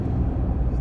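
A pickup truck towing a loaded 12 by 7 by 6 tandem axle trailer, about 7,500 pounds total, cruises down the highway with a steady, continuous low road rumble and engine drone, with no break in the sound.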